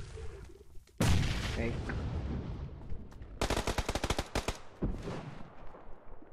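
Gunfire from a sniper rifle in the PUBG video game: a loud close boom followed by bursts of rapid shots and scattered cracks, with a person briefly speaking over the action.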